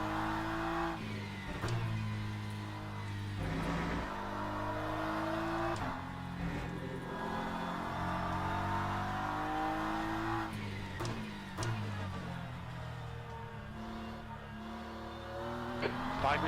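GT3 race car driving laps in iRacing, its engine droning loud and steady throughout, revving up and down through gear changes as it circles the track.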